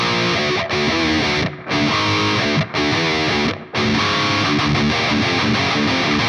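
A heavily distorted electric guitar plays a chugging main riff in phrases, with a few brief gaps between them, loud and close, with no voices.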